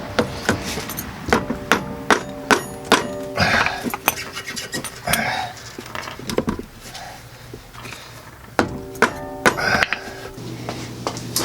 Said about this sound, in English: And then you just hit it with a hammer.